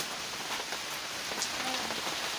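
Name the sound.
rain falling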